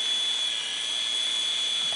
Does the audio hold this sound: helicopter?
yes